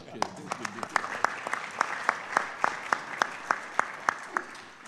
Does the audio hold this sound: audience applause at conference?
yes